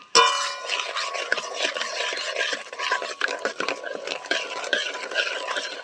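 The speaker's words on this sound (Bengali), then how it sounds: "এবার খুব ভালো করে আমি মিশিয়ে নেব।" A spoon stirs a mixture of milk, sugar, agar agar powder and water in a pot for mango pudding, giving close, steady scraping and swishing strokes that run continuously with small rhythmic clinks against the pan.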